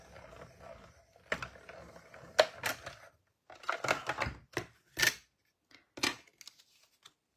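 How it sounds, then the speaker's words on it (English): A paper card is run through a die-cutting machine, producing a series of sharp clicks, cranks and rustling bursts with short pauses between them, close and moderately loud with no talk. "We'll die cut that one."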